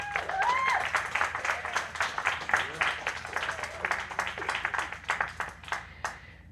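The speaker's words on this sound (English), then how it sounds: "y'all need to give Randy a round of applause." A church congregation at a Unity of Melbourne worship service breaks into warm, sustained applause for Randy after a brief voice, with the clapping holding steady before fading out at the close.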